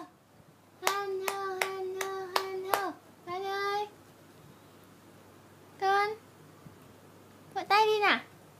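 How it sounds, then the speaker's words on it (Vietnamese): A seven-and-a-half-month-old baby claps hands at home: about six sharp, evenly spaced claps ring out close by under a sustained adult voice, followed by short bursts of babbling and coaxing voices. "Vỗ tay đi con"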